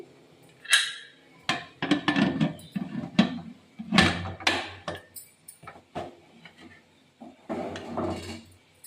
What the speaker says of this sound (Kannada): ಸೊ ಇವಾಗ ನಾನು ಕುಕ್ಕರ್ ಕ್ಲೋಸ್ ಮಾಡ್ಕೊತಾ ಇದ್ದೀನಿ.